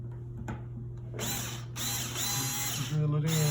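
A power drill driving a screw into wood during LED light and switch installation, with a steady whining motor running through most of the clip in short bursts, close and fairly loud.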